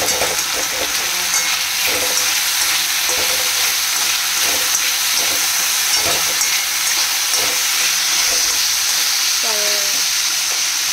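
Steady, loud sizzling of potatoes frying in a pan, with occasional scraping clinks from stirring throughout.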